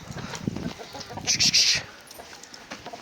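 Chickens in a farm coop give a short burst of clucking calls in the middle, rising briefly above a quiet, low rustling background.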